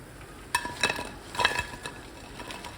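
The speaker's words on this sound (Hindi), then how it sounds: "तो सुना आपने कितने क्रिस्पी बने हैं" Crispy fried Korean chicken wings handled on a plate, producing a few light crunchy rustles and scraping clicks in short bursts, close and fairly quiet, with no talking.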